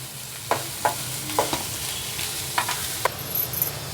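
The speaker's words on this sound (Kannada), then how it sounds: "ಈರುಳ್ಳಿ ಸ್ವಲ್ಪ ಎಣ್ಣೆಯಲ್ಲಿ ಚೆನ್ನಾಗಿ ಹಸಿ ವಾಸನೆ ಹೋತಕ ಎಣ್ಣೆಯಲ್ಲಿ ಫ್ರೈ ಆಗಲಿ" Onions frying in oil in a pan, a soft continuous sizzle broken by a handful of scattered spatula scrapes and taps, close and fairly quiet.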